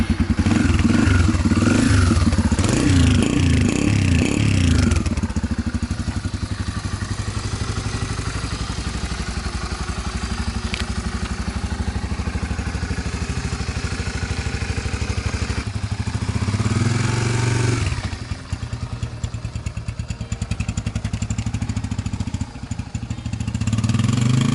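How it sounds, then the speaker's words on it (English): A Yamaha TTR 125 LE motorcycle starts up and runs with a loud, close single-cylinder buzz, revving hard at first, then settling into a steady drone, and swelling again near the end. "Let me show you a clip of it running it up and down the driveway so you can see what it looks like running."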